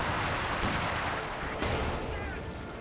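Rapid automatic grenade launcher bursts in Company of Heroes 2, a dense continuous barrage of thumping impacts and explosions with a sharp crack midway, under a commentator's voice.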